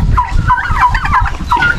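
Domestic turkeys gobbling in a rapid, warbling burst that repeats, close and fairly loud, with no talking, on a Philippine farm with ducks.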